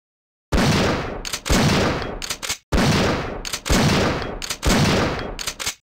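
Weapon fire in Resident Evil 3: Nemesis, heard as four loud, close bursts of rapid gunfire, each lasting about a second, separated by brief gaps.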